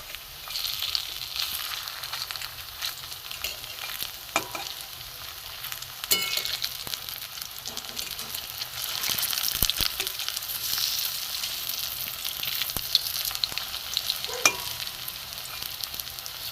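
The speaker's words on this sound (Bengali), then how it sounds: "পকোড়াগুলো আমি উল্টে দেব।" Drumstick flower pakoras fry in hot oil, a continuous moderate sizzle with occasional sharp crackles and light clicks of turning, no talk.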